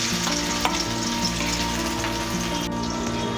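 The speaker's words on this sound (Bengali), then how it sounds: "এবারে আমি 2টো পেঁয়াজ দিয়ে দেবো," Two onions hit hot oil in a pan for spinach chicken, giving a loud, steady close sizzle and crackle that fills the whole stretch with no talk.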